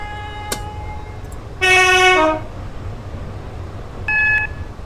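A synthetic train horn in the Roblox game Stepford County Railway sounds two tones, one long blast then a shorter one, over a low rumbling engine drone, with a brief click early on.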